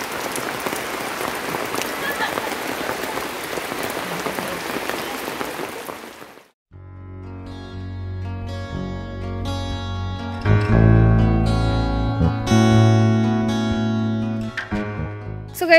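Steady rain patters on a surface for several seconds, then stops abruptly and music with a voice takes over.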